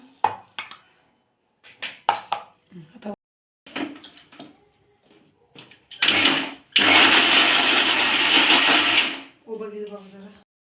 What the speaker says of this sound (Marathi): आपण मिक्सरला बारीक करून घेऊया